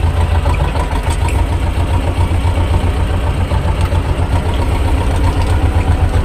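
A T-25 tractor engine running steadily, a loud, dense low rumble with an even throb throughout, close by and with no speech over it.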